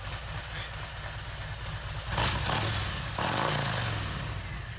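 A motorcycle that was left outside runs with a steady, loud engine rumble close by, the revs swelling a little twice.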